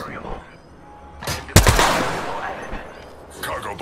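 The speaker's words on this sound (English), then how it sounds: "Cargo bot shot up." Gunfire in Apex Legends as a cargo bot is shot up; a sharp loud burst of shots lands near the middle, with a quieter earlier shot and faint firing later, over low game ambience and some speech.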